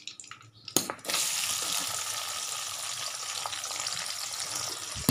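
Onions dropped into hot oil in a pan left from frying potatoes: a sharp hiss bursts in about a second in, then settles into a steady, close sizzle that continues without talk.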